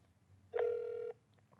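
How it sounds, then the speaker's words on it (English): A phone call into a customer call center produces one steady electronic telephone tone about half a second long, clear and alone against a quiet background. "Let's see what happens when I dial into the call center."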